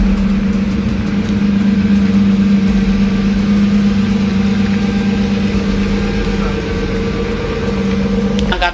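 A sports car engine hums at a steady, loud drone from inside the cabin, holding an even pitch with no clear rise in revs.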